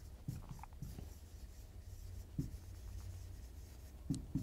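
Faint, intermittent taps and short strokes of a stylus writing an answer on a digital board in a quiet room, with scattered light contacts.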